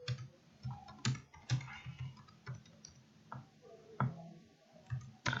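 Computer keyboard typing, with scattered, irregular key clicks close by and short pauses between bursts, some taps sharper and louder than others.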